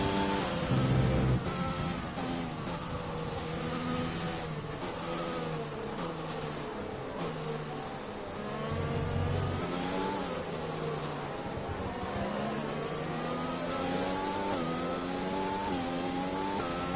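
Formula 1 car engines in the F1 2020 racing video game whine at high revs, with repeated rises and falls as gears shift, loud and continuous throughout without talk.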